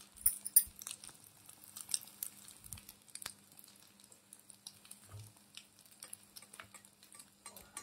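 A miniature slice of bread toast fries in a tiny toy-sized pot, giving off faint, scattered crackles and light scraping clicks in a quiet setting with no talking.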